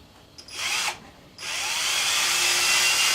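An electric drill spins against a motorcycle fork bolt on a Honda CX500C, giving a short burst, a pause, then a sustained steady high whine that runs loud and close to the end.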